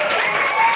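Studio audience applause at a comedy quiz show, a brief, even burst of many hands clapping together, moderately loud and with no voices over it.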